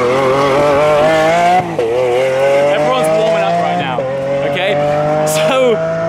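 Supercar engine roaring on a long RAF airfield runway, loud rising and falling revs with shifting pitch and gear changes, close and dominant.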